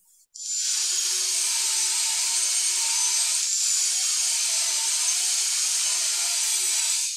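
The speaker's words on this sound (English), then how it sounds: "cut a 5-degree bevel with the table saw on each side of this bottom piece" A table saw rips a 5-degree bevel along a wooden bottom piece for a planter box: the blade spins up abruptly and then holds a steady, loud, high whine through the cut, close by and without speech.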